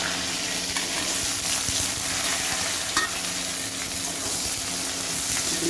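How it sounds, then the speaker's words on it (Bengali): Chopped onions frying in a pan for chilli chicken, a loud, steady close sizzle with scraping stir strokes running throughout. "পেঁয়াজটা ভেজে নেব।"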